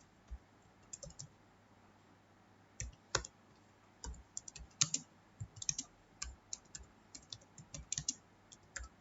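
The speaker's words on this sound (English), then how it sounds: "Now let us type the program." Fingers typing a program on a computer keyboard, quiet irregular bursts of key clicks with short pauses between runs, close and faint against a low hum, no talking.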